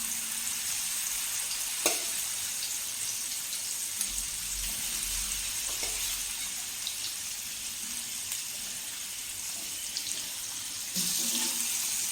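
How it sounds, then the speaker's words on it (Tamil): Paneer fries in hot oil on a dosa pan, giving a steady, close, hissing sizzle with a few faint clicks and scrapes throughout. "எண்ணெய் சூடாகிடுச்சு இப்போ நம்ம பன்னீர் சேர்த்துக்கலாம்"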